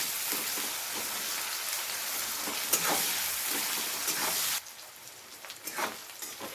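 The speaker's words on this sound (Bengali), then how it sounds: "এবারে খুব ভালো করে পেঁয়াজটাকে হালকা ব্রাউন করে প্রথমে ভেজে নেব।" Chopped onion fries in oil toward light brown for a cabbage and fish-head curry, a close, loud, rain-like sizzle that drops quieter partway through, with stirring scrapes.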